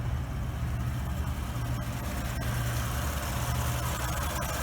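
Stock 2020 Ford F150 pickup with the 3.5 twin-turbo EcoBoost engine idling, a quiet, steady low hum with faint mechanical ticking and no revving.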